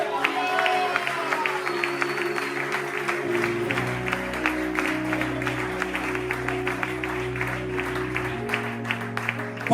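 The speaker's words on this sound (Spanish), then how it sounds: "Yo le daría un fuerte aplauso a Dios" A church congregation applauds during a sermon, a steady patter of many hands clapping at moderate distance over a low sustained hum, with faint cheering mixed in.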